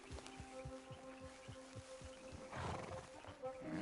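Horse in Red Dead Redemption 2 stepping along with rhythmic low thuds of hooves, then a louder snorting burst near the end, close and fairly loud over a low game ambience.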